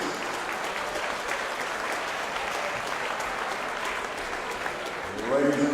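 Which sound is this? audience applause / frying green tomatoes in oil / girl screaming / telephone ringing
audience applause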